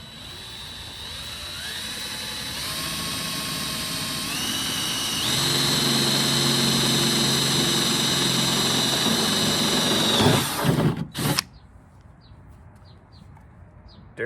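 A power drill bores into a Ford Mustang Foxbody trunk lid, its whine rising in steps and holding a steady high pitch for several seconds before stopping abruptly, followed by quiet handling noise.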